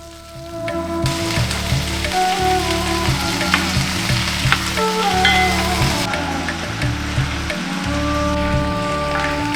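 Chopped onions, tomatoes and cashews frying with spices in a pan give off a continuous steady sizzle, partly masked by louder background music throughout.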